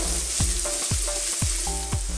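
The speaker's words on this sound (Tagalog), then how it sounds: "ilalagay na rin po natin ang onion. Mixin na po natin." Onion and shrimp stir-fry in a hot pan with a loud, constant sizzle, broken by regular scraping strokes of the spatula roughly every half second.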